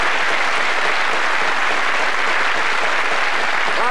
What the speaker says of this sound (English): It's worth a round of applause